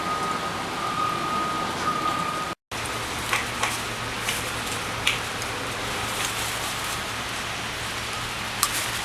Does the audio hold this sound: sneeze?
no